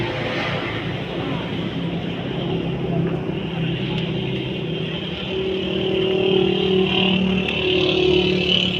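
A motorcycle ridden along a road, its steady engine drone and wind rush loud and continuous, rising slightly toward the end.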